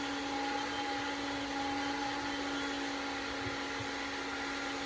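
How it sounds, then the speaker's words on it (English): A vacuum cleaner running in another room, a steady droning whine with a constant hum that holds unchanged throughout, moderately loud and alone without any talk. "Sorry about the vacuum cleaner"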